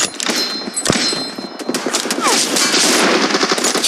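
Rapid, loud automatic gunfire from a PUBG squad-versus-squad team deathmatch, a dense continuous volley of shots with metallic pings running throughout.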